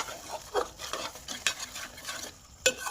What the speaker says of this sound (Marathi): छानपैकी मिक्स करून घ्यायचं आपल्याला.